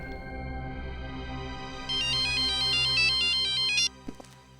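An electronic phone ringtone plays a bright repeating melody over a low background hum, then cuts off abruptly, followed by a couple of soft clicks.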